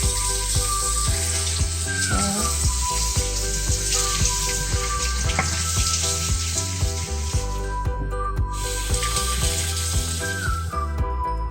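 Pork spare ribs frying in hot oil as the fat renders and they brown, a steady dense sizzle and crackle running throughout with some clinks from the pan, no talking.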